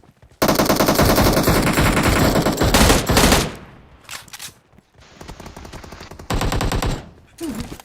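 Rapid bursts of automatic gunfire from the PUBG Mobile battle royale game ring out loud and close, broken by short pauses and lone shots, with faint talk here and there.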